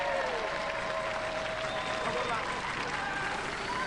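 A crowd applauds a robot combat team in a televised robot wars arena, steady clapping and cheering under a whining tonal background hum.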